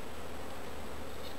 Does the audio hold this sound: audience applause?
no